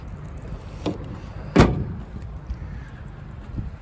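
The tailgate of a 2024 Chevrolet Silverado LT drops open on a key fob command, a single solid clunk at mid-clip with a softer click before it, outdoors and fairly close.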